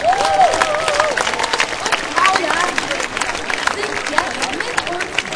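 An audience at a German stage performance of Shakespeare's The Tempest breaks into dense, sustained applause with scattered cheering, while a voice talks over the clapping.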